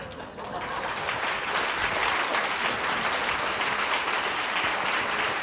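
Sustained applause from an audience, a dense steady patter of clapping that swells in and holds loudly throughout.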